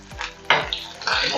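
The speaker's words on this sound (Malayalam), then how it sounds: "എന്നിട്ട് ആ ഉള്ളി ഒന്ന് വഴറ്റാം." Onions sautéing in hot oil with mustard seeds in a metal pan, with repeated scraping clinks of a spoon against the pan over a soft sizzle.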